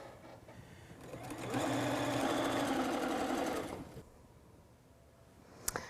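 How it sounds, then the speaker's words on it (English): A sewing machine stitches quilt block rows together, building to a steady, fast whirring run for about two seconds, then slowing and stopping, with quieter handling noises before and after and a brief click near the end. "I'm just going to sew the rows together here"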